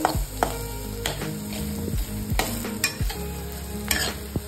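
Green chili thecha stir-fried in a pan for a Maharashtrian dish, a steady loud sizzle broken by repeated scraping stirs of a spoon against the metal, close up and with no voices.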